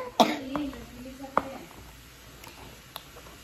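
A single sharp cough up close, followed by a couple of fainter throat noises in a quiet room.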